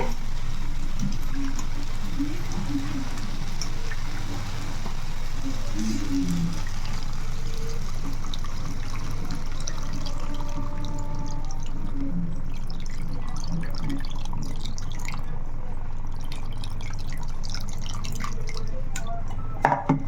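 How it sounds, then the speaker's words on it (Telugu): Tamarind water pours and drips into a pan in a steady trickle, close by, with small splashes and no talking. "ఇప్పుడైతే మనం చింతపండు పులుసు అయితే వేసేసుకుందామండి"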